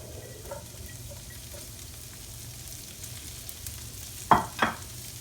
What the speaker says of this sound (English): I'm going to put my broccoli in.